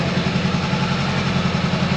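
A motorcycle engine runs with a close, steady low rumble and no clear rising revs, heard on its own with no talking.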